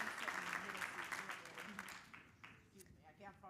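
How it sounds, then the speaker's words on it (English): Luncheon audience applause for an award recipient at a women's health event, dense clapping that fades out after about two seconds, heard faintly at a distance with some speech mixed in near the end. "Another round of applause for Dr."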